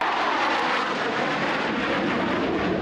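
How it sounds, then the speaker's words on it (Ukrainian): F-16 fighter jet flying over Ukraine at its first official flight, a loud continuous broadband engine roar that holds steady throughout with no voices. "сучасні західні винищувачі f 16 здіймаються в українське небо"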